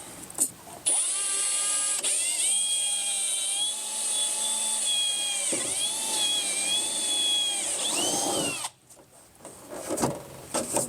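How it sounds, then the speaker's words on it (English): A power drill whines steadily at close range for several seconds, drilling through a mud flap for a 2010-2018 Ram pickup, its pitch dipping under load, then cuts off abruptly. "I'm just going to drill through both of these real quick"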